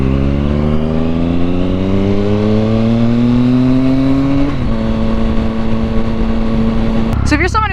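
Wind roars inside a motorcycle helmet as the bike picks up speed, under a loud engine whose tone climbs steadily, dips at a gear change, then holds before a brief burst of higher noise at the end.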